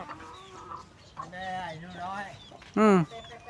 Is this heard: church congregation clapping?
no